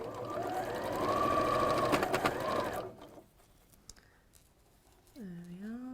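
A domestic sewing machine runs steadily for a few seconds with a dense mechanical whir and rhythmic clatter, then stops, leaving quiet handling noises before a voice begins.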